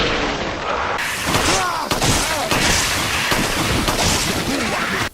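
Repeated handgun shots from Jill's Beretta Px4 in Resident Evil 5, several sharp reports in quick succession with echoing tails, loud and close, no talk.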